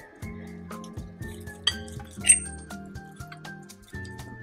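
A cooked Mango Jalapeno chicken meatball from an air fryer is sliced with cutlery, a few light clinks and scrapes of metal against the plate, soft and close.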